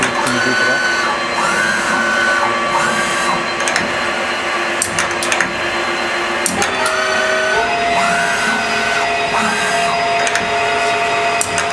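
A Harrison Alpha 1460XS CNC lathe spindle runs a looped program, a loud continuous machine whine with shifting tones and clicks as the cut changes, and voices talk over it.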